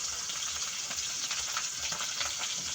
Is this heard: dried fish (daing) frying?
yes